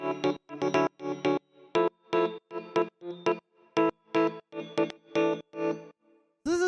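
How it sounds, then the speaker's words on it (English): A Rhodes-style electric piano plays short, detached chords in a choppy, syncopated rhythm with gaps between hits. It is clear and close, with a soft bell-like tone and no voices. "So the first sound we have here is this Rhodes thing"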